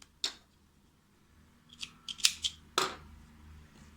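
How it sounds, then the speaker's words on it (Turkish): Scissors snip crochet yarn with a few sharp, crisp cuts, one early and a quick cluster near the end, close and quiet. "ipimi kopardım"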